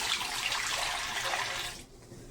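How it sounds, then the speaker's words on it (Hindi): Water runs steadily into a pot on a stove, about half a litre poured in for cooking chicken wings, a close, continuous splashing rush that cuts off near the end. "इसमें तकरीबन हाफ लीटर पानी ऐड करते हैं"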